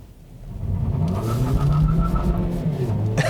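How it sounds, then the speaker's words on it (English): A 2018 Kia Niro plug-in hybrid with dual-clutch transmission and traction control off accelerating hard, engine rising in pitch with a loud close rumble as the front wheels hop, then a sudden shift near the end. "I disabled the traction control there, and again, because of that dual clutch, it will really hop those front wheels"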